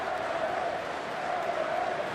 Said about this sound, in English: And the crowd's getting behind him.